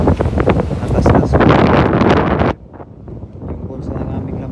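Wind buffets a microphone aboard a fishing boat at sea, loud rumbling gusts for a few seconds that then drop to a softer background rush, with someone talking through it.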